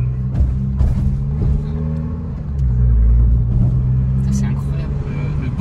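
Small car's engine revving while driving, a loud rumbling drone that swells and surges, with people talking over it.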